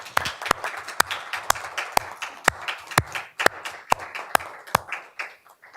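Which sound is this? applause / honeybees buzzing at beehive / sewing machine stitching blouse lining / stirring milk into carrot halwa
applause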